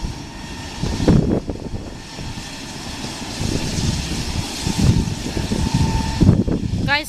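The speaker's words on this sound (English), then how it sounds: "It's got 3 engines, guys." A three-engine airplane runs its engines at Aurora Municipal Airport, a steady near engine roar with rising and falling swells throughout, while people talk briefly at times.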